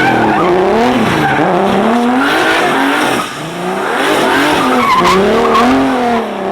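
A car spins a donut with loud, sustained tire squeal and skidding over a revving engine, the pitch rising and falling as the car rotates, close and alone without talk.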